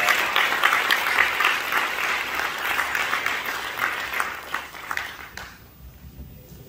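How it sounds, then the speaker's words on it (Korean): Sustained applause from a large audience at a church conference welcoming a pastor to the stage, dense steady clapping that thins and fades toward the end. "나오실 때까지 박수로 우리 환영하겠습니다"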